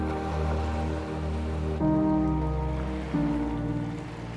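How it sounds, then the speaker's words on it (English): Steady rain falls from a passing rainstorm on a warm day, a dense continuous patter with a low rumbling undertone and two abrupt shifts in level, no voices. "just waiting for this bit of a rainstorm to head on over"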